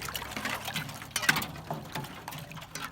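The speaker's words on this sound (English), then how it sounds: "So I'm gonna break the ice." A shovel breaks thin ice in a horse water trough in freezing weather, giving scattered cracks, clinks and splashes of water in irregular bursts at close range.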